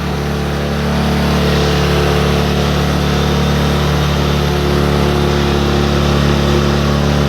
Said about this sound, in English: It's a lot louder than my other son's bike.